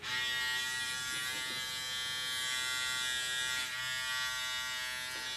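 A Sonicare PowerUp electric toothbrush buzzes continuously after its power button is pressed, giving a loud, steady high-pitched whine with a brief dip in the middle.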